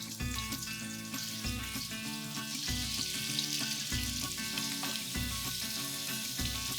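Squid frying in olive oil with zucchini in a pan, a steady loud sizzle running throughout with a rhythmic low pulsing underneath, no voices.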